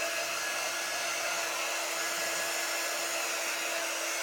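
Hair dryer blowing on spritzed paint, a constant loud airy rush held without change from start to finish, with nothing else heard over it.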